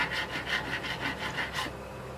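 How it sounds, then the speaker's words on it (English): Coarse and fine files crown the frets during a tenor guitar re-fret, giving a close, rhythmic rasping of about eight quick strokes with no talking. "files, coarse and fine, for just getting the crown on the fret"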